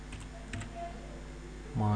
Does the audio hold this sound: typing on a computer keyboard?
yes